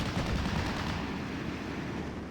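Dense, continuous rifle and small-arms fire from a WWII-era battle in the strategy game Steel Division, heard as a steady wash of rattling shots at middle distance with no talk.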